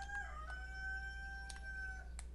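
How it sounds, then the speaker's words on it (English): A chicken in the Minecraft video game gives a few short clucks and squawks over a steady tonal game background and low hum, quiet and spaced out, with no talking. "Voice crack from the chicken."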